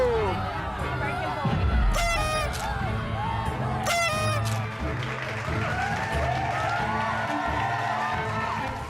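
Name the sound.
audience clapping loudly on request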